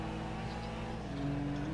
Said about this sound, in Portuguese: esse Subaru tá correndo pra caralho, hein, velho